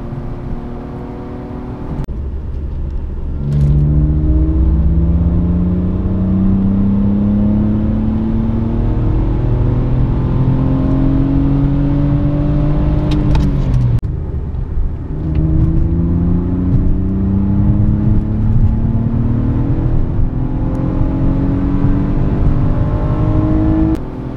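A BMW fitted with a 3.46 ratio differential accelerates hard in fourth gear on the road, engine note climbing steadily with a brief dip at a shift, loud and close inside the car, no talking.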